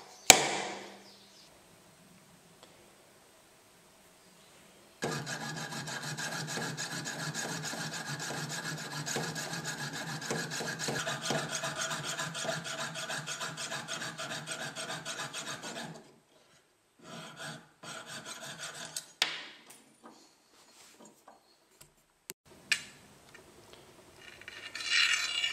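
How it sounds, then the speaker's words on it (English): A hand saw cuts out the opening in a wooden seax handle after a hole is drilled with a drill press. Steady, close rasping strokes run for about eleven seconds, then a few brief, sparser scrapes and knocks follow, with no talk. "Jesus will put a hole with a drill press and use the saw to cut out the opening"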